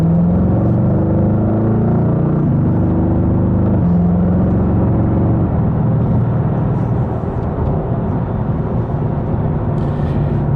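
Twin-carburettor Mercedes car accelerating from inside, a loud steady engine drone that shifts pitch as it gathers speed, continuous with no talk.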